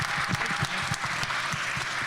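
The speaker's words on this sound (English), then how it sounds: "let's give Jada and the rest of the panelists a round of applause" A summit audience in Baltimore applauds panelists with steady, dense clapping that fills the room without pause.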